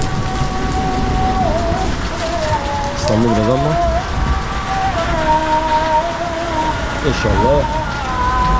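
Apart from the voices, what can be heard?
rain falling in Istanbul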